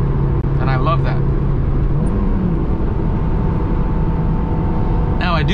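Loud, droning engine and road noise fill the cabin of a stock Honda S2000 driven through canyons, with a speaker talking over the steady hum and passing shifts.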